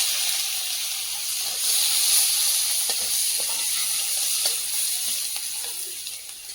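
Chopped onion frying in white oil in a pan gives a loud, continuous close sizzle with soft stirring scrapes and no speech.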